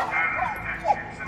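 A dog whimpers and yips briefly amid Call of Duty: Modern Warfare game sound effects, with a short higher whine near the end.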